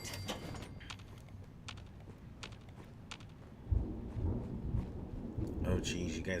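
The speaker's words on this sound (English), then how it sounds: "Yeah, that's the thunder outside." Deep rumbling thunder from a storm outside rolls in low and swells louder partway through, with faint clicks and taps over it and no talking.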